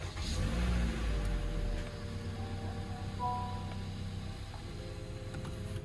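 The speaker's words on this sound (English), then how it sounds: "go ahead and start up the car. Let it run for like 5 seconds" A Honda Civic EX engine cranks and catches, then settles into a steady idle, loud and close, with a brief rev at the start before the running note evens out.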